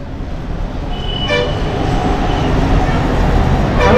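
A Bangalore metro train near Indiranagar rumbles past loudly and close, with a brief horn toot early on over the steady roar of the wheels.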